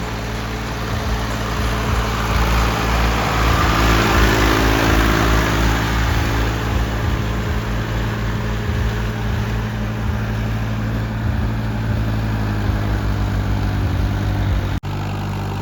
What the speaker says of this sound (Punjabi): ਸਵਰਾਜ ਟਰੈਕਟਰ ਬਰਾਇਆ ਕੱਢਣ ਸਵਰਾਜ ਵਿਚਾਰਾ ਆਪ ਲੱਗ ਗਿਆ